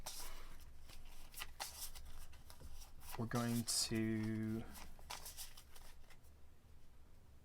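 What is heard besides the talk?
shuffling a hand of playing cards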